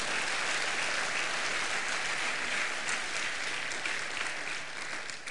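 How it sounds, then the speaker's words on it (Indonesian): A church congregation claps together in steady unison, a loud dense wash of applause that continues unbroken for several seconds with no voices over it. "Coba kita tepuk tangan dalam satu kesatuan."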